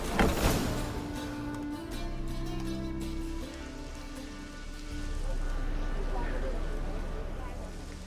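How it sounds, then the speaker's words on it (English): Rain patters steadily on surfaces in The Witcher 3, a soft continuous hiss beneath the game's ambience, with a voice speaking early on. "Raining again."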